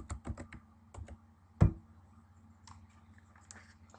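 Typing on a computer keyboard, a quick burst of clicky keystrokes followed by a single louder key thump and a few faint scattered taps, close and alone without talk.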